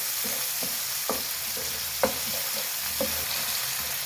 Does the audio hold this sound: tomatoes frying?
yes